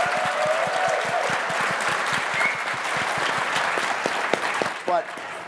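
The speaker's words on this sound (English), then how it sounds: "a round of applause for Lori" A conference audience breaks into full applause for a presenter named Lori, a thick, sustained wash of many clapping hands, with a few voices calling out near the end.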